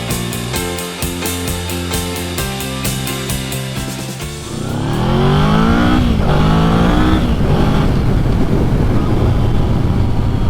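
A Yamaha VMAX 1700 motorcycle on an Air Force base accelerates hard after a few seconds of steady music, its loud close engine roar climbing sharply in pitch through the gears, with no talking.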